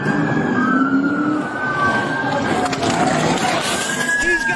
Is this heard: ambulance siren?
yes